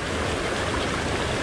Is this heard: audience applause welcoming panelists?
no